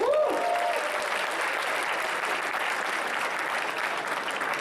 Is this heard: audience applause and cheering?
yes